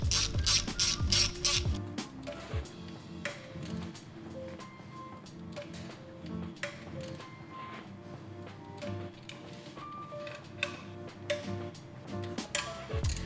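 A ratchet snugging down the oil pan bolts on a Volkswagen 2.0T engine gives rapid, close mechanical clicking in repeated runs, steady and clear, with no talk.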